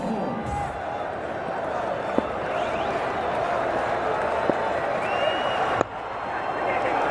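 Cricket stadium crowd at an India vs South Africa ODI roaring steadily throughout, a dense continuous swell of cheering with a few sharp claps and thuds, under commentary.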